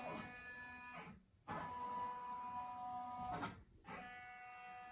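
An embroidery machine runs a trace of the design outline on a blanket order, its steady motor whir with faint pitched tones, stopping briefly twice before resuming, close and loud, with no talk.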